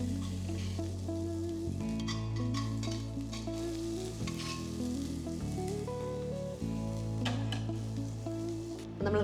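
Chunks of meat sear in a hot pan with spice paste for Zurbian, a steady sizzle sitting low beneath prominent background music throughout.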